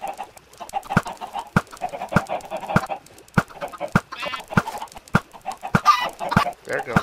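Chickens in a Minecraft chicken farm cluck and squawk in quick, repeated bursts, with sharp clicking game sounds scattered throughout at moderate volume.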